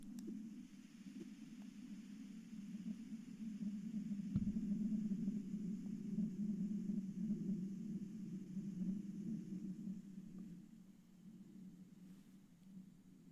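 A high-altitude jet cruising at about 35,000 feet over southern Utah gives a faint, distant, low rumble that swells slightly in the middle and then fades, with no voices present.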